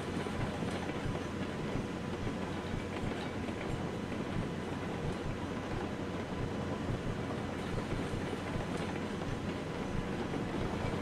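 A train in the railway game RailRoads Online rolls steadily along the rails, a continuous broad rumbling roar with faint clatter, even in level throughout, with no talking.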